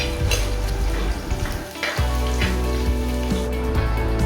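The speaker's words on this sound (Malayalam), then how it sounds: "അപ്പോൾ അതിലേക്ക് ഞാൻ ചെറുതാക്കി അരിഞ്ഞ വെളുത്തുള്ളി 2 ടേബിൾ സ്പൂണാണ് ഇട്ട് കൊടുക്കുന്നത്." Chopped garlic sizzling in hot oil in a pan for restaurant-style chilli chicken, a steady close frying hiss with scraping stirs and a brief dip before the sizzle resumes.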